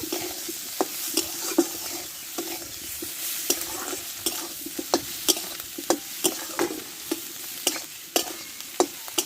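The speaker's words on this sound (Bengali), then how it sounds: "ভেজে রাখা আলুগুলোকে দিয়ে দেবো মশলার সঙ্গে ভালো করে কষে নেব" Fried potatoes are stirred and sautéed with spices in a pan: a constant sizzle runs underneath, broken by frequent sharp scrapes and knocks of a spoon against the pan, close up with no speech.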